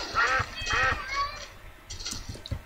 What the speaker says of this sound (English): We got some ducks here, too, right next to the chickens.